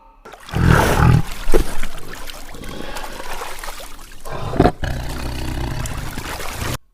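A tiger roars loudly and alone in a short burst near the start, followed by rough, breathy growling and a second swell toward the end.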